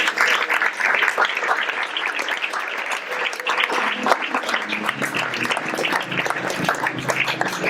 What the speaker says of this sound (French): On peut l'applaudir very hard, please.